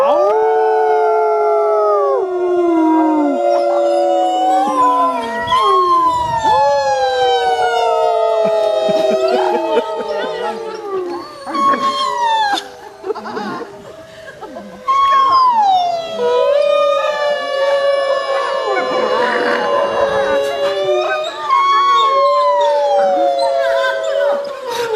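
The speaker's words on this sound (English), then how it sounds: "On the count of 3, we're all going to howl together" Wolves at a wolf and wildlife center howl together with a group of people, many long, rising and falling voices overlapping into a loud, sustained chorus that swells and fades in waves.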